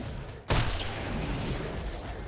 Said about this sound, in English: So we're just going to shoot the parasaur.